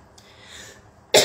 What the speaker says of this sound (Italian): E ho la tosse.